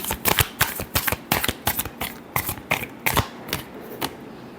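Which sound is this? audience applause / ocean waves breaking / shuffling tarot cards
shuffling tarot cards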